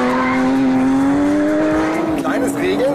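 A Porsche 911 GT3 drifting under throttle, its engine note climbing steadily as the tires skid and squeal near the end; loud and close, with an interior voice faintly present.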